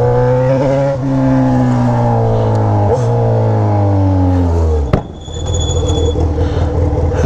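A Yamaha XJ6 motorcycle with an Atalla exhaust revs hard, its engine note climbing steadily and loudly for several seconds before cutting off sharply into a lower, rougher idle.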